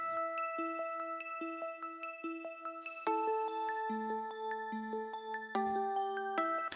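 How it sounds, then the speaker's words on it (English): Purity synth plugin's bell with harmonics preset playing an arpeggiated bell pattern: bright, clean, repeating tones stepping through notes, shifting chord position twice, clear and alone without talking. "You go into preset, bell and perk, and then bell with harmonics."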